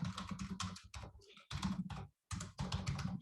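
Dense, rapid clatter of keys on a computer keyboard, typed in close, loud bursts with brief pauses between runs.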